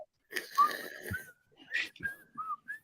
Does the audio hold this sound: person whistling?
yes